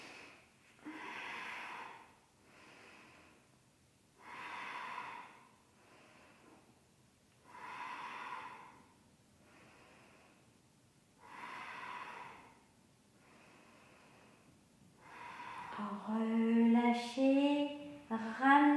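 Slow, deliberate breaths held through a hatha yoga pose, each long inhale and exhale audible and close, repeating about five times in an even rhythm before a brief, more strained breathy sound at the end.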